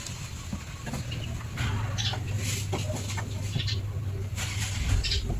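A Rhode Island crossbred mother hen broody on eggs clucks in a low, steady run of soft calls close by, with scattered faint chirps and farmyard noise around it.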